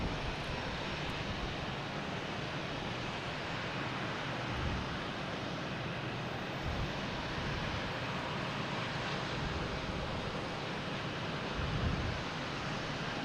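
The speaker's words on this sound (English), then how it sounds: "we have Delta taking off, an E-170 heading to Jacksonville." A Delta Embraer E-170 jet taking off: a steady, broad engine roar holds throughout, fairly distant and even, with gusty low rumble swelling around the midpoint and near the end.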